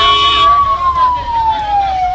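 A loud, close ambulance siren wails with one long tone that slowly falls in pitch, at the scene of an overturned speeding bus.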